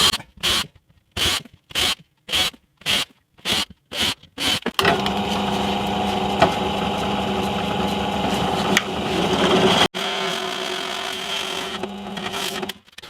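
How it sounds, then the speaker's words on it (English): A drill press with a Forstner bit: about ten short, evenly spaced whirring bursts, then a long continuous grinding drone of the bit cutting holes, loud and close. "I'm going to drill some holes"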